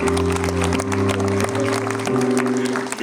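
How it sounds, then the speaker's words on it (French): A comedy-club audience gives a thunderous round of applause for teachers: dense, steady clapping fills the whole stretch, with sustained musical tones droning underneath. "On doit faire un tonnerre d'applaudissements pour les enseignants"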